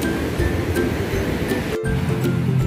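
Fairly big ocean waves rolling onto the sandy shore of Citepus beach at Pelabuhan Ratu, a continuous broad wash of surf with wind, near and steady, with no voices.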